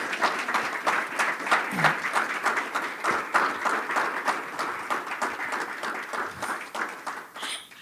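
An audience at a social justice forum claps for a speaker, sustained applause with distinct individual claps, holding steady before tapering near the end.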